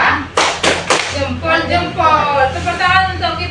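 A primary-school class at an Islamic madrasah does the 'tepuk jempol' clap routine: three sharp, evenly spaced claps ring out close by, then give way to children's voices chanting and talking.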